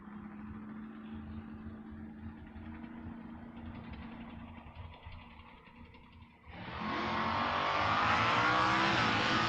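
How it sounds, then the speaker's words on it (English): Chevrolet Nova drag race cars at the start line of a door car drag race, a rough idling engine with throttle pumping, swelling into a loud, broad roar of hard acceleration near the end. "He's out there pumping the throttle already."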